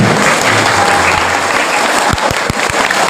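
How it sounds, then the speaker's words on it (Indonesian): A school audience claps loudly for students at a junior high entrepreneurship training session, a dense, continuous burst of applause that breaks into a few separate, scattered claps near the end. "Sekali lagi tepuk tangan."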